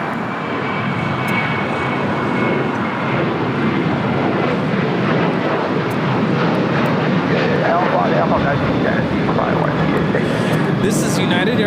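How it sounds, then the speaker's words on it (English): A United Airlines Boeing 737-800 bound for Las Vegas takes off at LAX, its jet engines giving a loud, sustained roar that holds steady throughout, with someone talking over it. "This is United Airlines 2449 taking off to Las Vegas on a 737-800"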